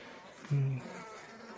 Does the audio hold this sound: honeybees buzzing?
yes